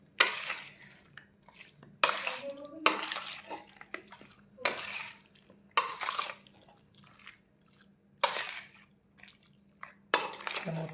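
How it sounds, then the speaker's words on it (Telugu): Gongura chicken pickle being stirred in a pot, with repeated scraping and clinking strokes about every two seconds, fairly close and moderately loud with quiet gaps between. "మొత్తం అంతా కలిసేలాగా కలుపుకోవాలన్నమాట."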